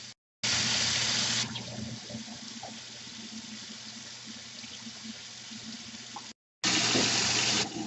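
Running tap water gushes into a sink, shifting between a strong rush and a softer splashing flow as tie-dyed fabric is rinsed under it until the water runs clear.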